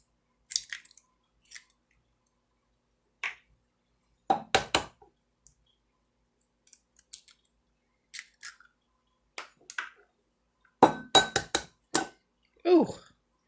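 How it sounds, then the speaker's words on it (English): Three medium eggs are cracked into a bowl for homemade pasta. Close, sharp taps, cracks and clinks come in scattered bursts against near silence, and a brief voice sounds at the end. "I'm just going to crack them into a bowl."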